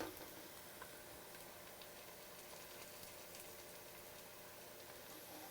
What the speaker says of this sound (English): we are frying the gnocchi